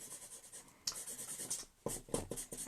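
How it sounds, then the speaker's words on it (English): Marker colouring a paper card in pink over scrap paper, with steady scratchy strokes, a pause, then several brisk back-and-forth scribbles, close and fairly quiet. "I'm going to do it with the marker."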